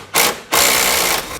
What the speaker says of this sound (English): and the impact, and hit it from this side, and it should come right out.